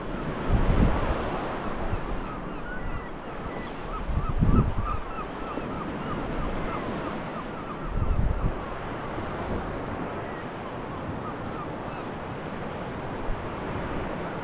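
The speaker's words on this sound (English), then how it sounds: "Getting some big old waves coming in at me here." Big ocean waves roll in and break on the shore at Laxey, Isle of Man, with heavy wind buffeting the microphone; three louder surges stand out over a constant roaring wash, and no voices are heard.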